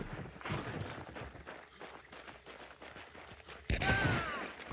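A rapid burst of gunfire from a game ambush, a dense crackle of many shots running several seconds before a louder, closer blast near the end.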